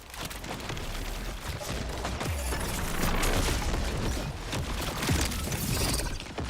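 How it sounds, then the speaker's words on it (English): Artillery fire rains down in the shooter Borderlands 4, a dense, loud barrage of crackling blasts and rumbling impacts with shattering debris, one after another with no pause. "Here comes some artillery."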